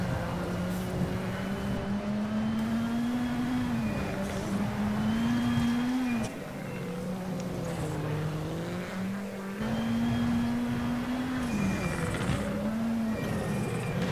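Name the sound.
rally car driving in the video game WRC7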